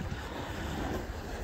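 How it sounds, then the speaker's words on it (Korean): Wind and waves on the coast at Kiama, a steady broadband roar of surf and gusting wind buffeting the microphone, with no voices. "바람이 정면에서 와서 파도가 왼쪽 오른쪽으로 밀려 들어오고 있어요"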